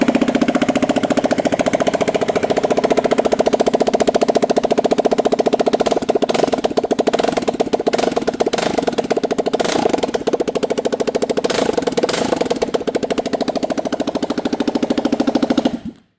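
A loud, raw motorcycle engine, a turbocharged GasGas SM700 with no exhaust or airbox, runs up close with a harsh, rapid, uneven firing rhythm and no muffling, then cuts off abruptly at the end.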